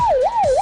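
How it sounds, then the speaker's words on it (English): An emergency siren wails in two smooth rising-and-falling sweeps, loud and close, played as a sound effect on a radio show. "The last thing we'll do will be the siren."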